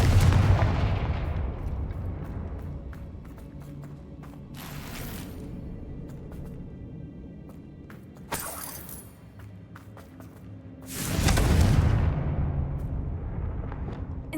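In Hogwarts Legacy, the Confringo blasting spell goes off as three heavy, booming explosions spaced a few seconds apart, each a loud burst trailing into a rumbling roar that fades between blasts.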